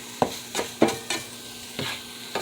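Eggs and kale cooking in a frying pan, a loud close sizzle broken by several distinct stirring scrapes at an uneven rhythm.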